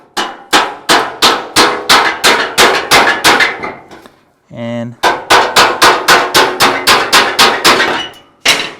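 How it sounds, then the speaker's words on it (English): Hammer and dolly pound a flat steel sheet metal panel being worked over a filled hole, loud, rapid ringing metallic strikes in a steady rhythm, pausing briefly for a short voiced word before the hammering resumes. "So now what I can do is I can take the hammer and dolly"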